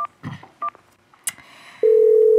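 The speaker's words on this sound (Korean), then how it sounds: "오늘도 전화 찬스 쓰려고 전화했어요." A telephone is dialed during a phone-a-friend call on a Korean TV quiz show: a few short beeping key tones and handling clicks, then a steady, loud ringing tone holds to the end.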